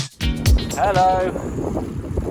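Wind roars steadily across the microphone during a cold, blustery UK bikepacking ride, a broad rushing noise close to the mic that fills the whole stretch, with a short voice near the start.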